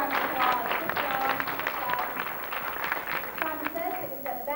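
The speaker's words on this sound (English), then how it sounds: "Oh, give her a big round of applause." Audience applause at a live Nickelodeon audition in a Universal Studios Florida theme park studio, moderate clapping from a crowd running under continuous voices and chatter.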